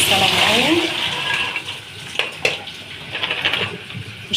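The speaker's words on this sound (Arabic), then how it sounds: "الحمص بتاعنا اهو هنصفيه من السلق اهو" Boiled chickpeas are drained, water pouring and splashing for a few seconds before tapering into scattered drips and clatter, with a voice speaking faintly over it.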